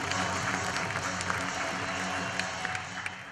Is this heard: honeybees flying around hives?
no